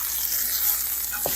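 Beef roast seasoned with salt and black pepper sizzles steadily in a hot pan, a loud continuous frying hiss, with a brief soft clatter near the end as the meat is flipped.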